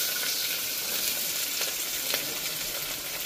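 Green chillies and chopped onions fry in a pan with a steady, dense sizzle, close and continuous, with a few faint stirring clicks and no talking.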